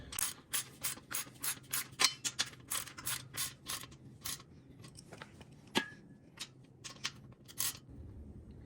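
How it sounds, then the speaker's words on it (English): A ratchet and a crescent wrench tighten a 17 mm bolt and nut while a Weider Legacy bench press is being assembled. Rapid bursts of close, crisp ratchet clicking repeat in short strokes, with a few scraping metal sounds between them and no talking. "I'm just gonna use my crescent on one side and then use my ratchet on the other side"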